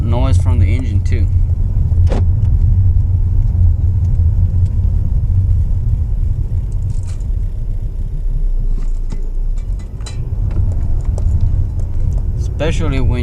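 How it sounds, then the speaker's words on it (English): Inside a car with a four-cylinder engine, a steady low rumble and road drone fill the cabin, with brief clicks and rattles and some speech. "this is a 4-cylinder, so it will make a lot of noise from the engine too."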